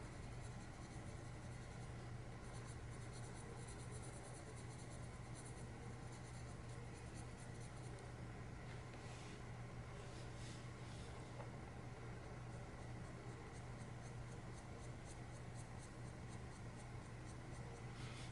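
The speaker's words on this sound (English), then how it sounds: "My Prismacolors are laying down so nicely on top of this marker and on this paper." Prismacolor colored pencil drawn over marker on paper, a steady soft scratchy scraping that continues unbroken for the whole stretch, close and quiet with no talking.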